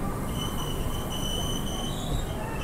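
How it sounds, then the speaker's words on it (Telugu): A passenger express train pulling into Samarlakota junction gives a continuous grinding rumble with thin, sustained wheel squeals above it, steady and fairly close, with no voices. "ట్రైన్ వచ్చేసి దాదాపు 2 గంటల 22 నిమిషాలు లేట్గా వచ్చేసి మనకు సామర్లకోట జంక్షన్కి అయితే రీచ్ అయింది"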